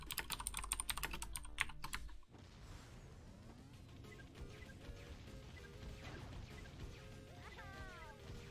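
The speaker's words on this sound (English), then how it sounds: "Someone is typing something in the" Quick clicking keystrokes on a computer keyboard, loud and clustered at first, then continuing more faintly under a soft background of music-like tones.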